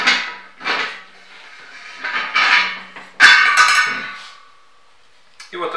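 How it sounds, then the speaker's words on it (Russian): A fitting is unscrewed from a beer keg during repair, giving close metallic clanks, scrapes and clicks in several bursts with short pauses between them. "Потом откручивается фитинг."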